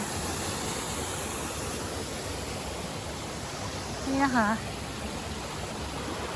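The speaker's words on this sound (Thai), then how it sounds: "ที่ร้านกาแฟตรงนี้ก็จะมีมุม น้ำตกเล็กๆนะคะ ไหลลงมา" Small waterfall at a coffee shop, water falling in a steady broadband rush that fills the whole scene, with someone briefly speaking over it.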